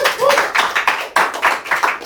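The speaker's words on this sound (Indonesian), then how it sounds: "boleh tepuk tangan?" An audience at a comedy game show in Indonesia claps briefly in a short, dense burst of applause heard close.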